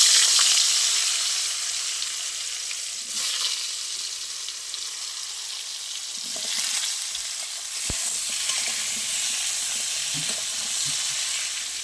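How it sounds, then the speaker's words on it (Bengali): Potato and plantain pieces frying in hot oil left over from frying fish, a steady loud sizzle with occasional stirring clatter and bubbling spurts, close and continuous. "ভাজার তেলেই আমি এইবার দিয়ে দেবো আলু আর কলা একটু ভেজে নেবো"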